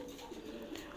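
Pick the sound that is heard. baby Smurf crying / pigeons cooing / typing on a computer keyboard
pigeons cooing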